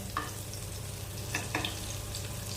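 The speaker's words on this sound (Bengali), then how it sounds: "এদিকে আমি পকোড়াগুলো ভেজে নিচ্ছি" Pakoras frying in hot oil give a steady dense sizzle throughout, with a few light scrapes or clinks of a utensil rising above the constant crackle.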